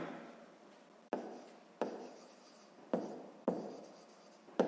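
A pen scratches across paper writing out a sixth-grade maths equation, in quiet bursts broken by about six sharp taps as the pen lands on the page.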